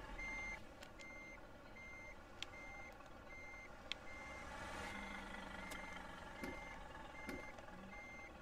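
Reversing beeps from a bus in a bus driving simulator video game sound as a steady series of repeated electronic tones over a low engine hum.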